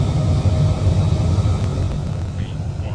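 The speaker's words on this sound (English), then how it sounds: "take the parking brake off and apply full throttle" Boeing 787-9 airliner engines spooling to full takeoff thrust in Microsoft Flight Simulator, a steady loud low roar and rumble that holds throughout with a faint higher whine above it.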